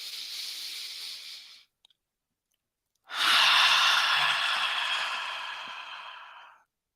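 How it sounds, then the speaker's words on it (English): A slow, deep inhalation during a guided meditation, heard as a soft, close breathy rush that swells and then fades away, following an earlier shorter breath and a brief pause, with no talking. "Breathing in"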